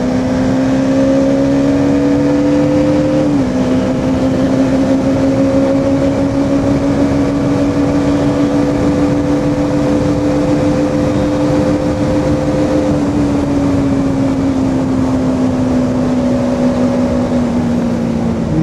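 A motorcycle pulls hard on a foggy mountain road on a solo morning ride, its loud engine drone holding steady with a brief dip at a shift, mixed with constant wind rush, close and continuous with no voices.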